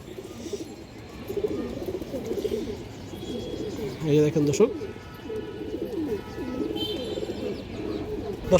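A silver bagha female pigeon with ringed eyes coos in repeated low rolling phrases close by, with someone talking over much of it.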